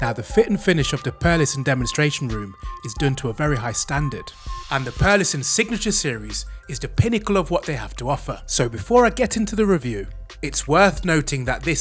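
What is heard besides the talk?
No everyday noises stand out.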